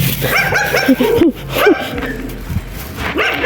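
A dog barks and yips excitedly in quick uneven bursts, close and loud, with whimpering notes mixed in, as people talk nearby.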